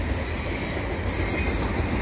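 A CN intermodal freight train rolls past Valois station close by, its loud, continuous roar of rail cars and wheels carrying a steady clatter with a faint squeal.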